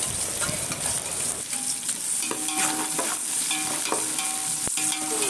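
Three medium-size chopped onions frying in hot oil in a pan give a loud, continuous sizzle, punctuated by ringing clinks and scrapes of a spoon stirring against the metal.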